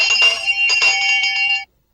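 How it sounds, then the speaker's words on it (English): A small bell hung on a string tied to a brass monkey rings rapidly, a run of bright, sustained chimes lasting about a second and a half before stopping abruptly into silence. "if the brass monkey is moved, the bell will ring"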